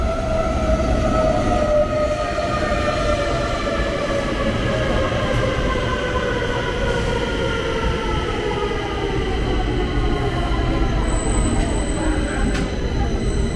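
Metro trains roll steadily through Stockholm Central Station, a continuous loud rumble of wheels and carriages with rising and falling tonal whines and a high squeal near the end, with no voices.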